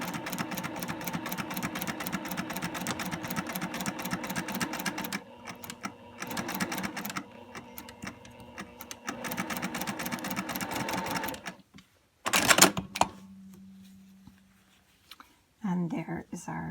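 A home sewing machine stitches a curved quilt seam in fast, steady bursts with short pauses, then stops as the presser foot is lifted and the fabric is repositioned, ending with a few faint clicks and handling sounds.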